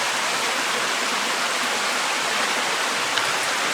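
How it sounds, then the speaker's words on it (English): A cave creek flows into rock and disappears, producing a dense, continuous rushing of water with a broad, even roar that stays steady and close throughout, no talking. "The water just flows into the rock and disappears."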